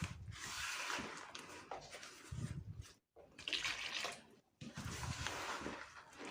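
Water poured from a tap into a bowl of wheat flour, dry yeast and salt for a panettone sponge dough: a rushing, splashing stream in several long pours, stopping briefly twice, nearby.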